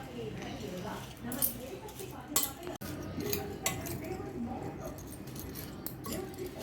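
Hakka noodles being tossed with soy sauce and salt, spoon and utensils scraping and clinking against a pan or bowl in an irregular rhythm, close and fairly soft, with a voice talking over it.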